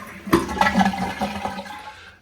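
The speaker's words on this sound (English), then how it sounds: "I'm going to go ahead and flush the toilet" A Kohler toilet flushes nearby, a quick whoosh of rushing water that gurgles and drains away over about two seconds.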